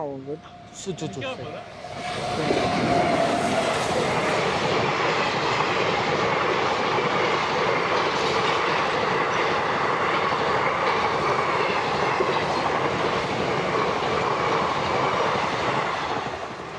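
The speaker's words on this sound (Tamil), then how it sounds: "ட்ரெயின் வந்துச்சு." A train pulls in and rolls past near the Thillai Kali Amman temple area, a loud, steady rumble of wheels and cars that swells after a couple of seconds and holds, with voices talking over it at the start.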